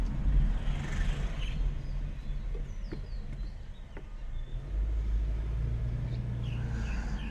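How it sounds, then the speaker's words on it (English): A big truck passes on a road near Doi Saket, Chiang Mai, as a low, moderately loud rumble swelling and easing, with faint birds chirping in the background. "Big truck."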